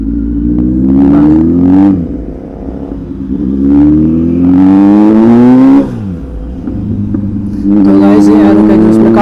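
Superbike engine revving loudly in repeated surges, pitch sweeping up and dropping back between throttle blips, with a steady idle rumble underneath and no talk over it.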